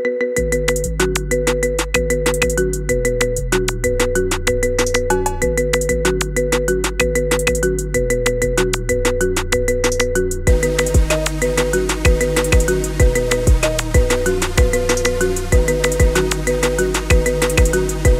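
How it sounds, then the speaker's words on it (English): A bright marimba-style ringtone melody loops over a steady electronic beat and bass, growing fuller and busier partway through, with no voices. "Get this cool ringtone for your phone now."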